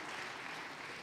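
A city event crowd in St. Pete applauds steadily, a dense wash of clapping held at an even level across a short moment.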